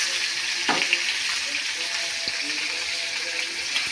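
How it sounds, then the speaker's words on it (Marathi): Fish frying in a pan, an even hiss of hot oil with a few soft knocks and clinks from handling, moderately close and without any talking. "तर हे पण मासे आपल्याला मागाशी तळले त्याच प्रकारे आपल्याला हे तळून घ्यायच्यात."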